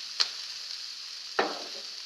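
Onion and chopped green onion leaves frying in a pan, a steady bright sizzle with two sharp bursts of crackle as the pieces are stirred, close up and with no talk.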